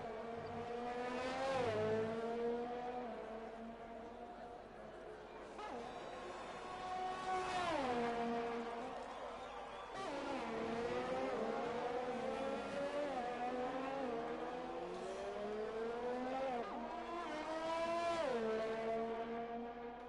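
Race cars lap a Canadian circuit in a sim racing league, engines screaming and upshifting repeatedly with pitch rising and dropping into braking zones, loud and close in repeated waves with no voices.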